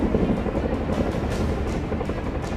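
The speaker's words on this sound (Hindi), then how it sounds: "और आसमान में उड़ने वाले ये अटैक हेलीकॉप्टरों की गर्जना" Attack helicopters roar over a desert firing range in Bikaner, Rajasthan, during the joint Indian and US Army Yudh Abhyas exercise; a steady, dense low rumble with no breaks or nearby speech.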